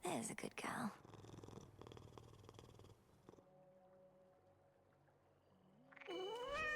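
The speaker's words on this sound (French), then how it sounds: "Ah mais oui, c'est vrai que j'ai un nouveau familier." A kitten familiar in the video game Hades 2 purrs and meows, a bright mewing cry at the start and again at the end with a softer stretch of game sound between.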